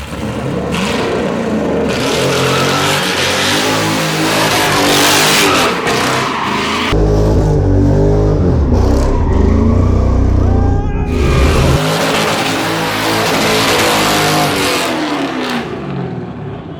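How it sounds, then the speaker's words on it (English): A car doing donuts, its engine revving hard and steady, with rough tire squeal and roar close and loud throughout and a brief shift in tone midway. "So should I just do donies while this dude's right here?"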